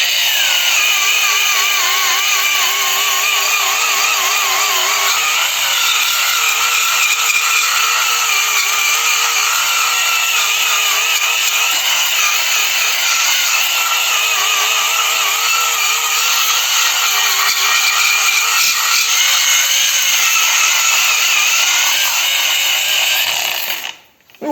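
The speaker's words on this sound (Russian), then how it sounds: "Проверяем спокойное шлифование." Cordless DRIVAK AG001 angle grinder grinding steadily under light load, a loud continuous whine with slight wavering pitch for about 24 seconds before cutting off abruptly.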